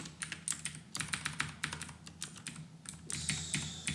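Rapid, uneven keystrokes on a computer keyboard while C++ code is typed, close and clear with short pauses between bursts and no talking.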